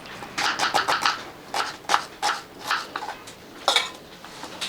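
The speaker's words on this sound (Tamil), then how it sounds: "இந்த மாதிரி பொடியாக கட் பண்ணிப்போம்" A knife chops onion finely on a board for raita in a home kitchen. It makes quick, close bursts of crisp taps in an uneven rhythm, with short pauses between runs.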